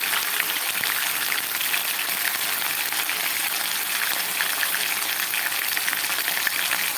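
Chicken frying in a pan with ginger paste just added, a steady, even sizzle and bubbling crackle that continues alone throughout.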